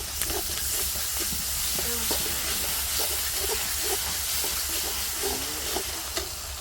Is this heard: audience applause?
no